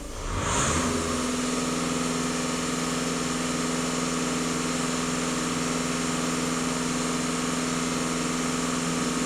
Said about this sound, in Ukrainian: даю газ в пол і дивимося, що